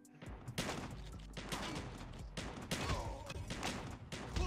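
Rapid bursts of gunfire from COD Mobile gameplay rattle in quick succession, dense and fairly quiet overall, with several clustered volleys.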